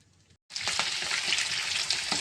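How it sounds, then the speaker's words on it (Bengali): Hilsa fish pieces dropped into hot oil: after a brief quiet moment a loud, dense sizzle bursts up and holds steady at close range, with no talking. "তো মাছ ভাজা চাপিয়ে দিচ্ছি"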